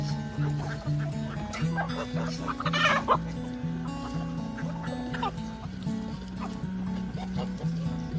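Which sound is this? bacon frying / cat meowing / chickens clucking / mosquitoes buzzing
chickens clucking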